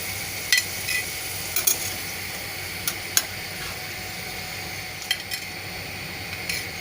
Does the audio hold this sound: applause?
no